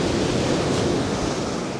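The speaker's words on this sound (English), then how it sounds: "that's where I see all the crashing waves" Crashing sea waves at the seaside, a loud continuous roaring surf with a surge of spray near the middle, close by and without voices.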